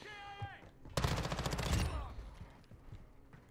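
Automatic gunfire from new Season One guns in Modern Warfare 2, a dense burst of rapid shots lasting about a second, followed by scattered single pops and game sounds.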